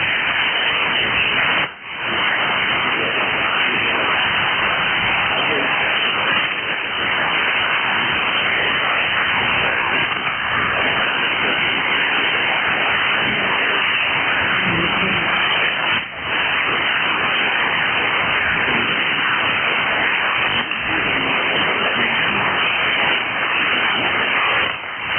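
Steady, dense white-noise static hisses from an amateur radio receiver, broken only by a few brief dropouts. No voices come through.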